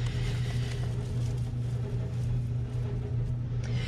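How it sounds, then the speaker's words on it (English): A house furnace running continuously in the background, a steady low rumbling hum with faint airy noise, constant and unchanging throughout, with no voices. "but the furnace has kicked on again."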